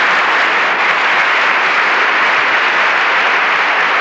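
A large audience claps steadily and loudly, a dense, even wash of applause that holds without breaks and no voices above it.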